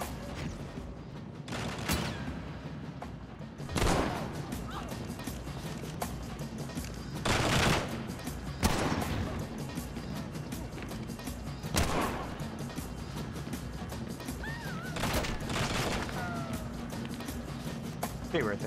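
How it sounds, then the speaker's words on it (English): Shotgun blasts in The Bourne Conspiracy video game, several loud booming shots spaced a few seconds apart over continuous game noise and background sound. "Shotgun."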